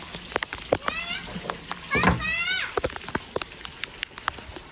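Heavy rain pours on a flooded village, with sharp dripping and splashing ticks over a steady wash while children and adults talk and call out close by.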